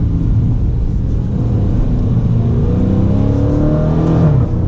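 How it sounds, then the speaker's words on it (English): A 2019 Dodge Challenger Scat Pack widebody gives a loud, steady engine roar from inside the car as the driver downshifts, with the pitch rising and falling slightly and no talk over it. "Oh, let's go ahead and downshift here"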